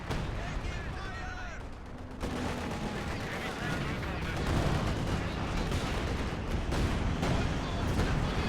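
Artillery barrage and gunfire from a Company of Heroes 2 match, a dense continuous roar of shelling and rattling shots throughout, with a brief lull near two seconds, and speech-like sound over the top.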